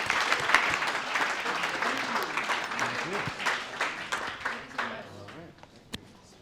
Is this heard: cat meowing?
no